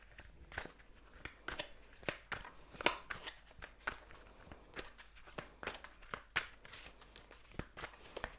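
Tarot cards are shuffled close up in quick riffling bursts, crisp papery slaps repeating irregularly, with faint room noise between.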